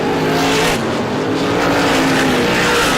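Race cars roar continuously during an ISMA Classic 150 supermodified race at Star Speedway, a dense, loud engine drone with shifting pitch as cars run through traffic, no talk.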